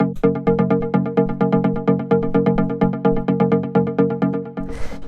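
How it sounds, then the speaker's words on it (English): A synth bass pluck repeats in a steady, quick rhythm, each note short and punchy, loud and alone, ending with a brief noisy swell. "So what this is it's just this little bass pluck here"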